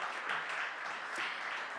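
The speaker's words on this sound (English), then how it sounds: "Can we please welcome her with a huge round of applause?" A conference audience applauds to welcome a female panelist at a panel on gender portrayal, a steady wash of clapping at moderate distance with no talking over it.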